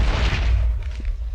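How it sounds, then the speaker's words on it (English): A zero-fuse explosive detonating instantly in a mapmaking video game, a loud dense boom with rumbling low end that fills the whole moment and fades slightly toward the end. "the fuse is like immediately, so it should explode instantly there"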